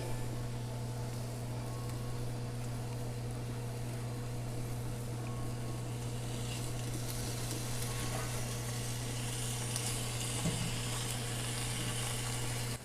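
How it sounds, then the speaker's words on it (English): Continuous crackling sizzle of bacon frying in a pan on a rocket stove, steady and close, with a low hum underneath. "it's already starting to sizzle"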